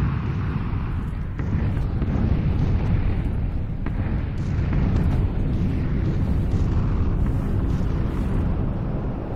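Explosions in the battle royale game PUBG, a steady loud roar of low rumbling blasts and booms that continues without pause through the whole stretch, with no voices.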